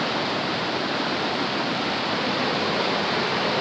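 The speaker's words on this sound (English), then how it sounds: "The river came all the way up." Broad, steady rushing of a flooded river at a gold prospecting camp, a dense continuous roar with no breaks and no voices.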